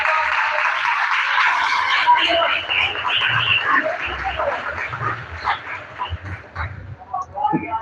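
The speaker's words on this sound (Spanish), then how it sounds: "Bríndele un fuerte aplauso a Dios." A church congregation applauding during a sermon: loud, dense clapping that holds steady, then thins and fades over several seconds, with scattered voices underneath.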